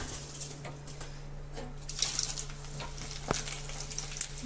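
Dried red chillies roasting in a pan give a soft, steady dry sizzle with faint stirring rustles and occasional light crackles, fairly quiet throughout with no talking.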